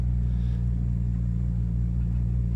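A manual car rumbling steadily as it pulls away after warming up, a constant low engine drone heard from inside.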